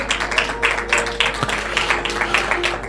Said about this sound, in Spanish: Dale un fuerte aplauso al Señor si lo crees